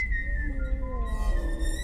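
Faint, wavering tonal whistling drifts through an eerie horror video game ambience, with several thin pitched lines sliding slowly over a steady low rumble.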